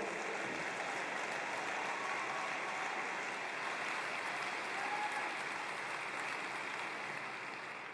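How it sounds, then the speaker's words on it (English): A large crowd at an AIPAC conference applauds throughout, producing a dense, sustained wash of clapping with no break, slightly fading toward the end. "Well, you can applaud Esther."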